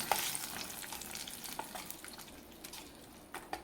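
Soft, steady sizzling of a spice tempering frying in a pan, with a few faint clicks of stirring, quiet and close.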